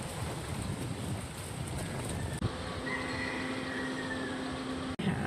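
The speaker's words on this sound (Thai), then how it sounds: "เลยดูให้เสียงลมสุดยอด" Strong wind at a hilltop temple in Chonburi, a steady loud rushing roar buffeting the microphone throughout, with a faint tone and a couple of brief knocks.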